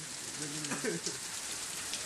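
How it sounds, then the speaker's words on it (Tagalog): Hail falling in a dense, steady patter, with a person's voice briefly heard over it. "Umuulan ng yelo dito"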